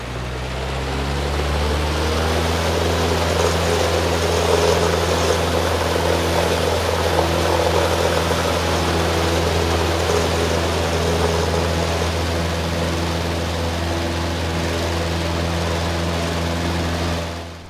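Simulated Cessna 150 Commuter propeller engine in X-Plane 11 during takeoff, a loud, steady droning hum with strong harmonic tones holding throughout, no voices, fading at the very end.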